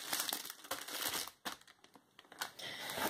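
Plastic wrapping from a pencil case unboxing is crinkled and crushed close up in loud, irregular bursts of rustling, with brief pauses between handfuls.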